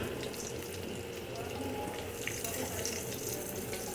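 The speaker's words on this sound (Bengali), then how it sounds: "এই দেখো, একটু আস্তে আস্তে ভেজে নিতে হবে, তাহলেই হবে।" Vegetable chops fry slowly in a pan, giving a steady, faint sizzle. The soft continuous hiss runs throughout with no break.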